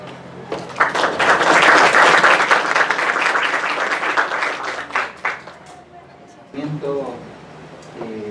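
An audience at a university law lecture breaks into loud applause that swells after a brief start, then fades out, followed by a voice beginning to speak.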